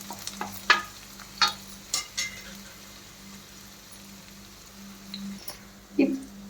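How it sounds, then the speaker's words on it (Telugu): Capsicum pieces stirred into a pan of sizzling carrots for masala pasta, with a soft frying hiss under a low hum and several scattered scrapes and knocks of a spoon against the pan. "తర్వాత క్యాప్సికమ్ ముక్కలను వేసి కలపాలి"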